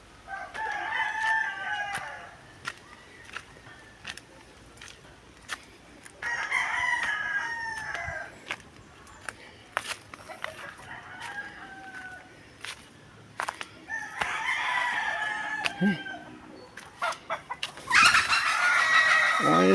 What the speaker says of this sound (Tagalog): Namutak na ang manok.